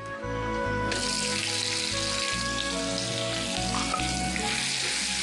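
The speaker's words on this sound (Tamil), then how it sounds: "வெங்காயத்தை நல்லா வதக்கிட்டு நல்லா இது பொன்னிறமாக ஆகணும்" Onions fry in hot oil with popped mustard seeds and cumin for a Tamil valaithandu neer sambar, a loud, steady close sizzle that swells about a second in, with stirring and background hum running throughout.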